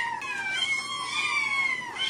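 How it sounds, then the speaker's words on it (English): A female cat lets out one long, drawn-out meow close by, clear and fairly loud, rising and falling in pitch over about two seconds. "let's see what the critical cat says."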